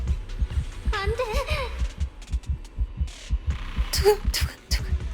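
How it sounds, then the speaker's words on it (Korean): Rhythmic heartbeat thumps in the video game Zenless Zone Zero, a steady low double-beat pulse running throughout under brief bursts of game voices and effects. "심장 소리 들려"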